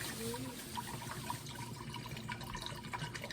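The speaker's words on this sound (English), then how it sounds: "So I'm going to put some water in this pot." Tap water poured into a cooking pot for boiling noodles, a faint, steady splashing trickle heard alone at low volume.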